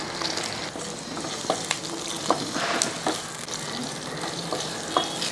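Small onions (shallots) being stirred as they fry in a pan for a tomato chutney: a steady close sizzle with scraping clicks from the spoon at irregular intervals, no voices.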